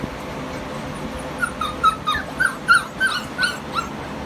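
A young goldendoodle puppy gives a series of high, thin whimpers and short yips, about eight cries in a rising-and-falling rhythm, close but not loud over a soft background hiss.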